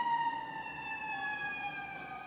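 Emergency vehicle siren, likely a fire engine, heard from a home window near a hospital, steady wailing tones sustained throughout at moderate distance over a low background hum.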